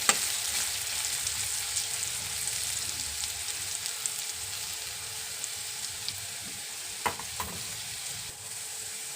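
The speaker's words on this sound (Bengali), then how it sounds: "আলুটা একটু লাল লাল করে ভাজা হয়ে যাওয়ার পর ভেন্ডিটা দেবো।" Potatoes fry in a pan, a soft continuous sizzle with occasional stirring clicks and small taps, quiet and steady with no talking.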